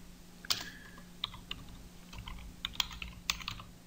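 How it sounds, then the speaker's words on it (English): Scattered clicks of keys being typed on a computer keyboard, a few separate keystrokes spread over a few seconds against a faint low hum. "Inside the new name box we type"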